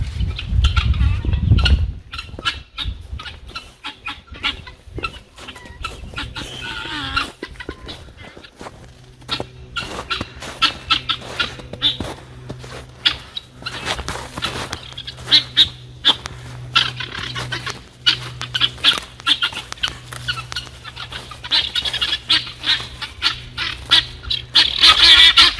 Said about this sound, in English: We got a whole bunch of guinea hens here making lots of noise.